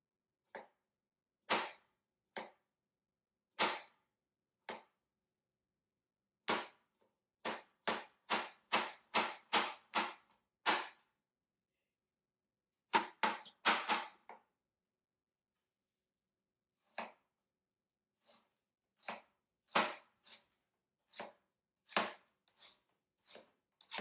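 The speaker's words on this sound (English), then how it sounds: "So now you're going to chop it up as much as possible." Knife chopping cucumber on a board for a chunky tuna salad, a series of crisp, close taps coming in irregular bursts of quick strokes separated by pauses, with no talking.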